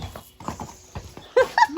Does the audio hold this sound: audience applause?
no